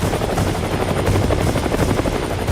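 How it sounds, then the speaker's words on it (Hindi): Steady, loud helicopter rotor thrum with a deep rhythmic chop, continuous throughout, no voices. "पहले एक हेलीकॉप्टर तेजी से उड़कर एक तरफ जाता दिखाई दिया"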